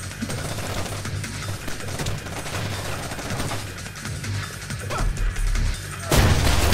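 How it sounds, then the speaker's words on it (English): Gunfire rattles in the stealth video game Splinter Cell: Chaos Theory, a dense run of bursts and cracks over several seconds that ends in a louder, heavier crash. "Oh, gunfire."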